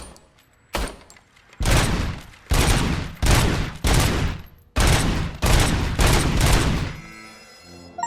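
Service pistol gunfire in RoboCop Rogue City, a string of about eight loud, sharp shots in an uneven rhythm, each with a short ringing tail, close and alone without talk.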